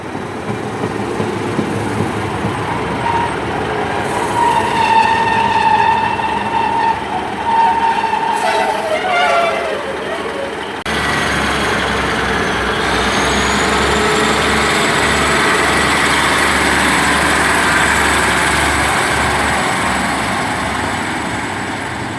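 Train 15231, the Treherbert to Cardiff Central service, pulls into Cathays station with a whining engine and screeching brakes, then a loud steady rumble and hum as it sits close by.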